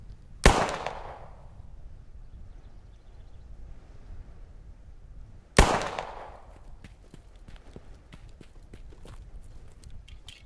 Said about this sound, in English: So let's put some rounds down as you would in panic mode when you see the enemy.